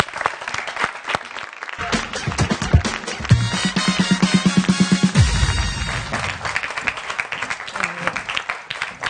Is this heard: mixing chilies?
no